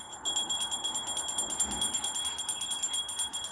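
A bell rings steadily outdoors in summer, its bright tones repeating in a quick, even rhythm across the whole stretch at moderate loudness, with no voices over it.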